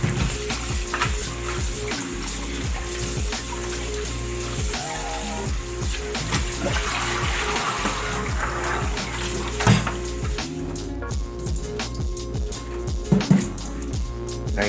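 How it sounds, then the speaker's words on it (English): Turkey wings are rinsed under a running tap in a bowl, making a continuous hiss of flowing water broken by splashes and clatter as the meat is handled, with no talking. "Make sure you clean this well. Give it a nice rinse."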